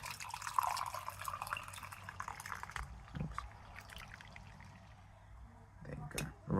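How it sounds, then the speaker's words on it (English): Tea poured into a cup, a steady close trickle of liquid running for several seconds, with a soft clink and light handling noises near the end. "I will pour in some of my tea."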